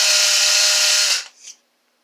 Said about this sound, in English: if you're drilling by hand